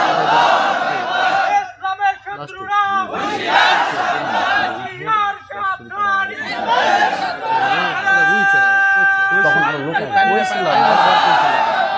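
A crowd at an outdoor Islamic sermon (waz) shouts the takbir "Allahu Akbar" in loud, unison bursts, trading calls with a preacher's amplified voice.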